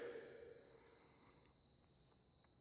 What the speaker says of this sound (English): Those crickets are annoying. They're so tiny too.